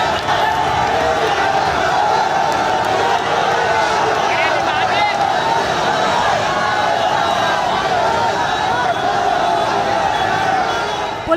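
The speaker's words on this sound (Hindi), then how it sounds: "मस्जिद की छतों पर चढ़कर भीड़ नारेबाजी कर रही है।" A dense protesting crowd chants slogans from mosque rooftops, a loud, continuous wall of massed voices and shouting with no pause, close and steady throughout.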